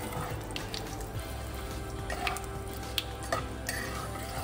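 Spices with asafoetida and curry leaves are stirred in a pan for sambar dal. A faint, low sizzle runs throughout, with light scraping strokes and no talk.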